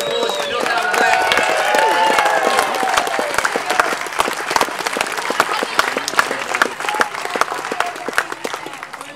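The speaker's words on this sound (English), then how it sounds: "Big round of applause for North Harbour Black." A crowd at a school district tournament prize-giving applauds loudly and steadily, with dense clapping close by and a speaking voice briefly audible over it.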